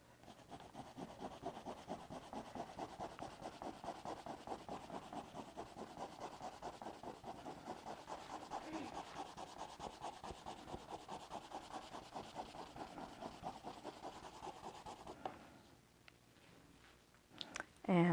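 Steady rhythmic rubbing on paper during an art project, with crayon or pastel strokes repeating quickly and evenly for about fifteen seconds before stopping, followed by a few faint handling noises close by.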